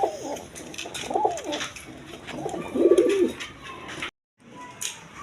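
Domestic pigeons in a Bangladeshi breeding loft, running pairs about to lay eggs, give several soft, rounded coos in a loose rhythm, close by, with a brief break near the end.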